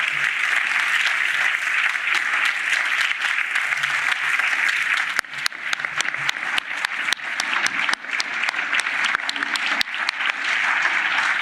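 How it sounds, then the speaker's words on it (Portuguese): Standing ovation in the European Parliament, a dense, loud and sustained roar of many hands clapping that keeps going throughout without any break. "Lula foi recebido e aplaudido de pé no Parlamento Europeu, antes e depois do discurso."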